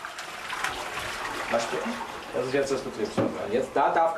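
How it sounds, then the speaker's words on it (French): A toilet is flushed with grey service water, and a steady rush of water runs throughout while someone speaks over it. "Je tire la chasse ici et la bonneau arrive"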